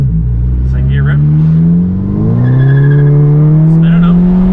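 A car engine revs hard through second gear, a loud, close, steadily rising drone that dips briefly at a shift and climbs again, with a voice speaking briefly over it.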